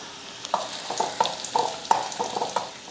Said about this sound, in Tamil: காஞ்சதுமே கொஞ்சம் சீரகம், ஒரு 2-3 பூண்டு நல்லா வதக்கிறோம்.